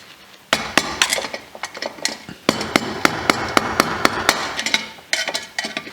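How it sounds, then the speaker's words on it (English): Sharp metallic hammer taps on a screwdriver tightening fittings ring out in quick irregular bursts, close and loud, with brief pauses between groups of strikes. "I can take a screwdriver and a hammer and just tighten these up"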